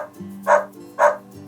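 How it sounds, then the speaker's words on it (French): A cartoon-like black dog gives two short, bright barks close up over a low steady musical tone. "Les chiens aboient pour parler."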